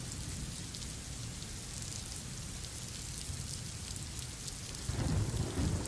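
Heavy monsoon rain pours down steadily in Kolhapur, a dense continuous hiss of downpour with low rumbling thunder swelling near the end, no voices.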